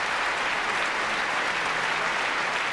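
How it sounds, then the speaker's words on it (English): A concert audience at a BBC Philharmonic Prom applauds as the orchestra's leader walks on stage, a dense, steady wash of clapping at full strength throughout with no break. "Applause for Yuri Torchinsky, leader of the BBC Philharmonic, coming on stage"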